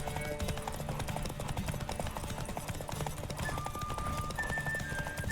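A horse gallops during a race in the video game The Witcher 3, a steady rapid clip-clop of hooves running continuously under game music and ambience, moderately loud.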